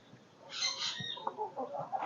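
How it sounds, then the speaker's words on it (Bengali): Desi hens and a rooster on a small home farm clucking close by, a burst of squawking clucks followed by softer intermittent calls, with no talk over them. "এটা এখানে কিছু দেশি মুরগি আছে ডিম খাওয়ার জন্য"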